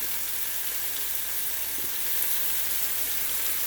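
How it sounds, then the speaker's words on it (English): Garlic and vegetables sauté in a skillet with a steady, close hiss and sizzle, even and continuous, with no voices over it. "And those veggies are going to be just nice and sauteed."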